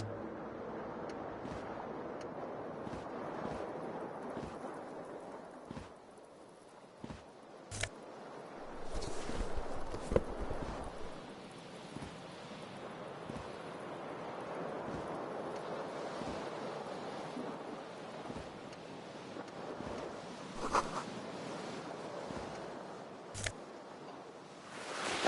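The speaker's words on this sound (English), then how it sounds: "A cool wind gushes in." Cool wind gusts in through an open window in Disco Elysium, a faint, steady airy rush with occasional soft swells and small ticks, no voices present.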